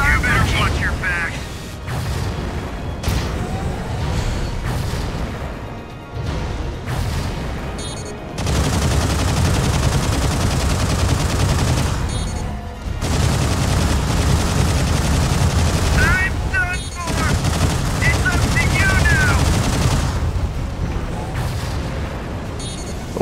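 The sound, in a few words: beam rifles firing in the video game Mobile Suit Gundam: Crossfire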